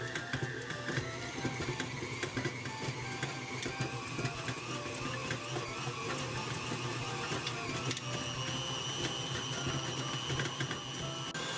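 Electric mixer creaming butter with powdered sugar for cranberry orange cupcakes, a steady whirring motor hum with mechanical clatter running continuously and close throughout, no talking.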